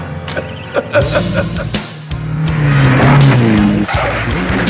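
A cartoon sports car from the Danger Mouse series drives with a loud, steady engine roar that rises in pitch, joined by tire squeals and cartoon sound effects, with no talking.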